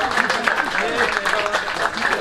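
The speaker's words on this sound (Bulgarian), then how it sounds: "Аплодисменти за тях." A crowd at a quiz night claps for a team, a loud, dense stretch of applause mixed with voices and cheering throughout.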